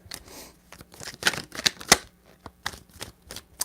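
Tarot cards shuffled by hand in three rounds, sharp irregular riffling snaps and soft slaps heard close, with no talking.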